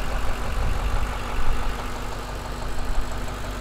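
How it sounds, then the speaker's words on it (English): A 2006 Ford Mustang GT with a 4.6 liter V8 and a K&N drop-in air filter, otherwise stock, idles smoothly, giving a steady low rumble with a faint pulsing throb, close and with no voices. "Very smooth, consistent idle."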